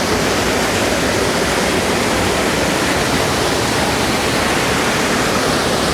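Choke Creek Falls in Pinchot State Forest, Pennsylvania, roars loudly and close by, a dense, unbroken rush of falling water filling the whole stretch with no voices.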